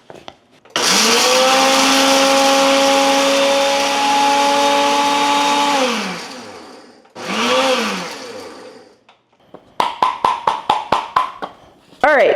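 An electric grinder whirs loudly while grinding ingredients for pumpkin bread, one long run of about five seconds winding down, then a shorter burst, followed by a series of quick pulsed spins.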